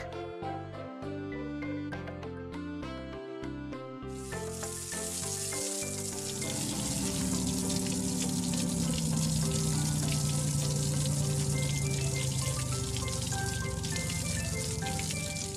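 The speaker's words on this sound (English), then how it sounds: "Look, Lifty is having a shower." A cartoon water truck spraying water over a truck as a shower, a loud continuous hissing spray that starts partway through after a few playful musical notes and carries on steadily.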